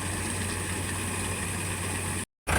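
A loaded farm tractor idles steadily at close range during a wheat harvest, a low, constant engine rumble with a brief dropout near the end and no talk.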